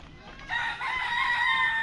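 A chicken gives a short, loud squawking call close by, a brief burst of agitated clucking.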